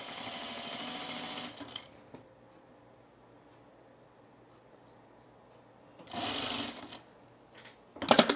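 A sewing machine hems a small shirt tab in two short bursts of close, rapid stitching separated by quiet, with a brief start at the very end.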